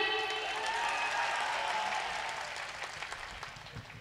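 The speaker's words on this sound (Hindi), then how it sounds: "तो तालियां बजा दीजिए" Applause from the audience at a mushaira poetry gathering, moderate and fairly distant, steady at first and then thinning slightly toward the end.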